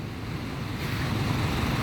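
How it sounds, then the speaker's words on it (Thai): Rain falls steadily outdoors, a continuous broadband hiss and patter that grows a little louder partway through, with no voices. "ฝนตกครับ"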